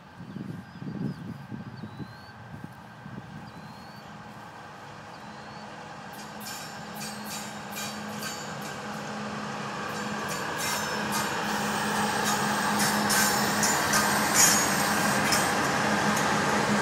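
A CSX freight train passes at Monroe Junction in Hamlet, North Carolina, a low rumble of rolling cars and wheels building steadily from faint to louder over the clip, with brief clatter and squeal.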